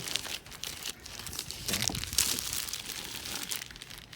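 Protective film crinkles and crackles as it is peeled off an acid lime green car wrap sample outdoors, a continuous close rustling that swells midway before easing.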